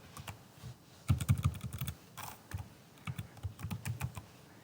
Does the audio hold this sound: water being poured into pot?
no